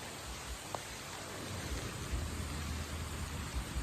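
Steady rain falls outdoors at a Thai temple in the evening, a continuous broadband hiss with a faint low rumble underneath and no voices.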